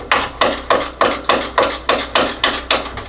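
A small ratchet works tiny screws loose on an HVAC unit near the heat exchanger thermistor, making about ten evenly spaced, crisp clicks close by.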